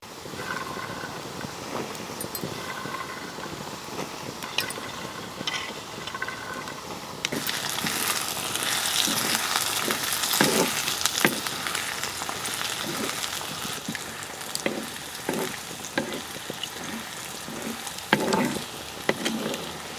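Sweet corn kernels fry with softened onions in a pan as part of a corn capsicum masala. A soft sizzle swells sharply partway through, with scattered stirring clicks and scrapes over the steady hiss.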